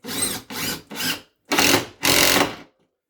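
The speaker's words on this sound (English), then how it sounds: "the drill's too noisy" Power drill driving screws while a spiral staircase is built: five short, loud whirring bursts, the first three quick and close together, then two longer ones after a brief pause, with silence at the end.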